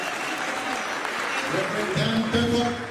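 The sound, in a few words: audience applause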